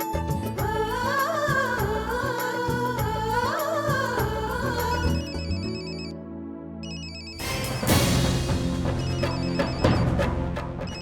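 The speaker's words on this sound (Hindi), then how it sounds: "देख तो किसका फोन है?" A telephone ringtone plays a bright electronic melody, loud and continuous, shifting to a busier, denser phrase partway through.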